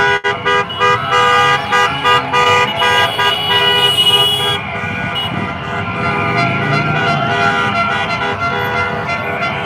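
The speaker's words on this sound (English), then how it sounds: "There's so many cars that are beeping" Horns honk repeatedly from cars driving past a street protest crowd on Spring Street in the evening, short loud toots layered over steady traffic and crowd noise, with a longer sustained blare in the middle.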